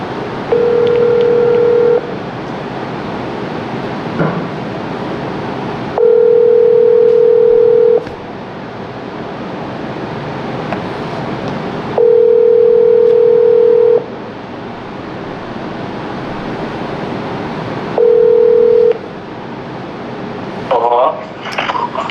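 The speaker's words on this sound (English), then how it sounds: "I'm gonna give my player a call" Phone call being placed before a live coaching session with a tennis player: a steady dial/ringback tone sounds in repeated two-second bursts roughly every six seconds over a quiet background hiss, with a faint rustle near the end.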